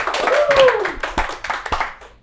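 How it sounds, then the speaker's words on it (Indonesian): A small audience claps during a podcast recording about coconut waste exports, with a voice speaking over the start, then a handful of separate, close claps that thin out and fade. "Nah, itu Luar yang biasa, kita berikan tepuk tangan."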